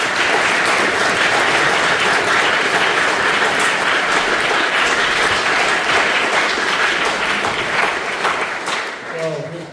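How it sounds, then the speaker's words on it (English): Sustained applause from a lecture audience after a speaker introduces the Right Honourable Andrew Smith at a memorial lecture, loud and dense throughout, thinning slightly in the last second, with voices mixed in. "give a round of applause for the Right Honourable Andrew Smith"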